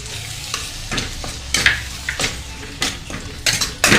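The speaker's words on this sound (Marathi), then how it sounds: "आता आपण अंडे घालूया त्याच्यात" Eggs sizzle as they fry in a pan of masala spiced with turmeric, Kashmiri chilli and goda masala for street-style anda bhurji. A spatula scrapes and stirs in several quick, irregular strokes over a steady frying hiss, with no talking.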